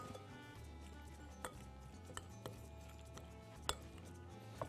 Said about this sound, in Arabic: ونقلب البصل